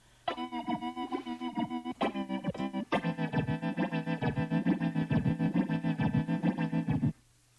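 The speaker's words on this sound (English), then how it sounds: "More like a synthesizer sound." A bright, buzzy synthesizer tone from Arturia V6 Collection organ software plays in rhythmic pulsing chords, steady and fairly loud, then cuts off abruptly.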